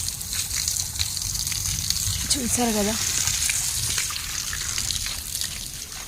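Water gushes steadily from a newly drilled bore well on a rainy farm, a continuous rushing wash running throughout with a person briefly talking over it.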